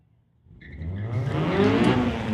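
A 1995 Honda Civic drag racing car launches after a short quiet start, its engine rising into a loud, sustained roar that builds steadily as it accelerates away.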